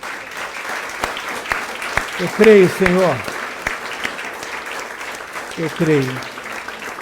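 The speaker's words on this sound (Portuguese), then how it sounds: "Se você crê nisso, pode dar um forte aplauso" A congregation at a New Year's Eve church service claps steadily beneath a worship leader's spoken and sung declarations, applause forming a continuous bed under the voice.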